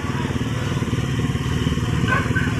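A motorcycle engine chugs steadily nearby in a flooded barangay street, its rough, throbbing idle continuous and fairly loud, with water sloshing faintly underneath.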